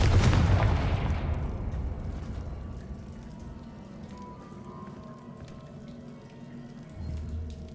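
Confringo blasting spell in Hogwarts Legacy: one loud burst right at the start that fades slowly into a long rumbling, rain-like hiss, with a low swell near the end.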